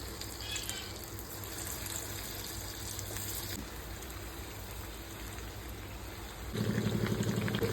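Chicken fries in hot oil for a dry fry, a soft, even, rain-like hiss that suddenly swells into a louder, busier crackle near the end.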